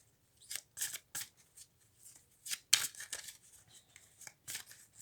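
A tarot deck is cut and shuffled by hand, giving a string of crisp, close card riffles and slaps in short irregular bursts, with quiet gaps between.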